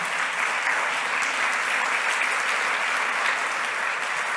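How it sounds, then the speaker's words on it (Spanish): Steady congregational applause fills a church service, an even wash of many hands clapping without a break, moderately loud and without talk. "Dame un aplauso al Señor."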